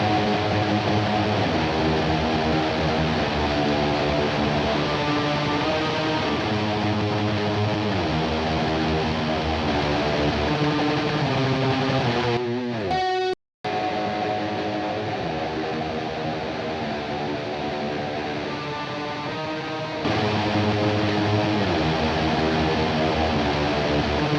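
An electric guitar through a Tube Screamer-style overdrive into a Marshall-style amp plays a chugging riff with sustained chords, briefly cutting out midway before resuming.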